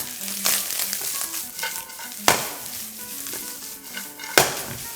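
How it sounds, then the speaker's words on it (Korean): Green onion and carrot sizzle in a hot wok for pork fried rice, a steady crackling fry with sharp intermittent scrapes and tosses of the spatula, close up and without talk. "이제 파, 당근 잘 볶아주면 이제 파 향이 우러나요."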